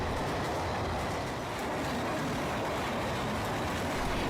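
A passenger train with modern red Linke Hofmann Busch (LHB) coaches runs along the rails, a steady rumbling roll with faint clatter of wheels, continuous and fairly close, with no voices.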